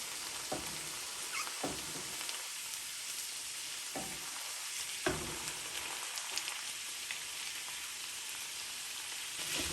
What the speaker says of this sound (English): we'll add in the veggies and allow the veggies to fry up a little bit with the beef